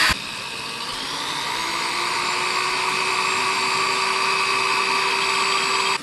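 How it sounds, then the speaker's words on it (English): A corded drill bores into a glass bottle, running continuously with a steady high-pitched whine and grinding tones, held close and loud, with no pauses. "Got to drill into glass."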